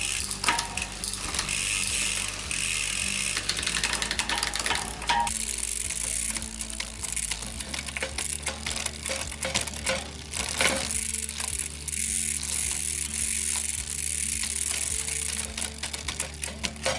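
Shimano Zee rear derailleur shifting gears on a bicycle, a run of close, crisp ratcheting clicks and mechanical ticks that continue steadily throughout with no talking.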